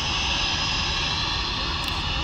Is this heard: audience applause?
no